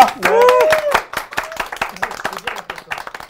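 Studio audience clapping to welcome a CEO guest on a Korean talk show, a short burst of claps with scattered sharp hits, mixed with voices and whoops.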